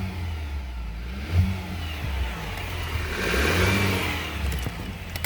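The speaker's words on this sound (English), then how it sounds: "Let's rev her up a little bit." A 2013 BMW 28i xDrive SUV with a 4-cylinder turbo engine idles, then revs up in a smooth swell and settles back, heard close and steady with no voices.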